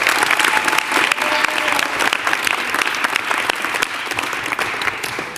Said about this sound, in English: Let's all give Giselle a big round of applause and thank her.